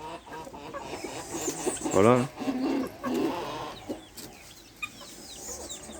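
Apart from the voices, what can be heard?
chickens clucking at a poultry breeding farm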